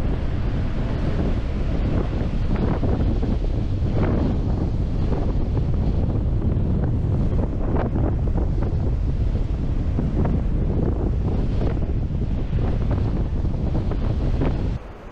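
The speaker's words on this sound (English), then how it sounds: "I'll leave you with the sound of the crashing surf over my shoulder." Waves crash and break on the beach at Folkestone in January, a loud, continuous roar of surf with repeated surges, mixed with heavy gusting wind buffeting the microphone throughout.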